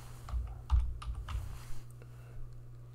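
Keys tap on a computer keyboard while a tutorial setup is entered, a quick irregular run of close clicks over a low steady hum.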